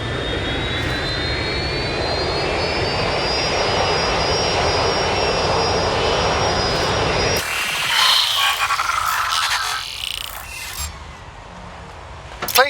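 A fixed-wing jet airplane roars steadily in the Watch Dogs: Legion video game, a loud sustained engine drone that cuts abruptly into a different, thinner engine whine partway through.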